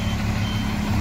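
Reversing beeps from a long-distance Moscow–Tashkent passenger bus, steady repeated tones over a low engine idle.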